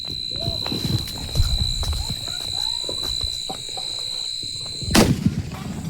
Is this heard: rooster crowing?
no